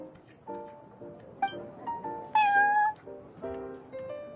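A cat in the video game Genshin Impact lets out a string of short meows, about half a dozen chirpy calls with one longer, louder meow in the middle, over quiet background music.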